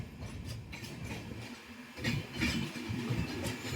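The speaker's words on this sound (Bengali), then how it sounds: "এখন ঢুকছে কলকাতা স্টেশনে" A long-distance express train from Jammu Tawi pulling into Kolkata station at night, a low rumbling engine drone with faint rolling rail noise, steady and moderately close, no talking.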